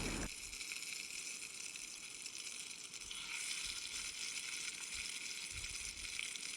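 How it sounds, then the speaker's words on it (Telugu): Cut green chilies dropped into hot oil in a pan, a steady bright sizzle and frying hiss that starts abruptly and continues evenly, faint and close, with no talking. "హీట్ అయిన తర్వాత దాంట్లో మనం కట్ చేసి పెట్టుకున్న పచ్చిమిరపకాయలు వేసుకోవాలి."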